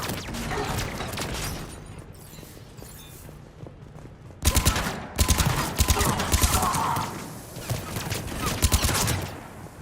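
Rapid bursts of automatic gunfire and weapon fire crackle through a Mass Effect 3 battle, starting sparse and then breaking into loud, dense volleys with shouted combat voices mixed in.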